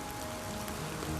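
Steady rain falling in a broad, even hiss with soft pattering drops, continuous and fairly close, heard alone without any voices over it.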